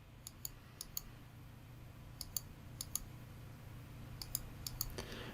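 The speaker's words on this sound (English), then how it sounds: "just right click and go for radius" Sparse mouse clicks in AutoCAD 2020, arriving in short clusters of two or three sharp ticks separated by pauses, close and fairly quiet over a steady low room hum.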